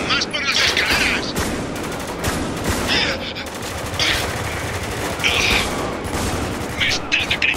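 Dense automatic gunfire and shotgun blasts from the shooter game Spec Ops: The Line on suicide-mission difficulty, near and loud, with overlapping bursts running almost continuously under excited talk.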